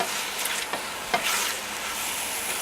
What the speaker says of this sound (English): So the vegetables are sauteing nicely,